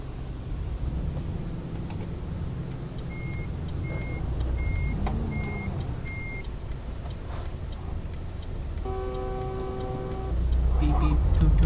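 A truck backs up in Euro Truck Simulator 2, its reversing alarm giving about five evenly spaced beeps over steady engine rumble, then a brief horn toot near the end, with speech in the background.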